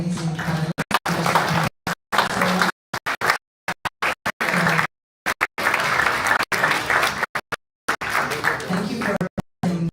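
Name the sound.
audience applause for the panel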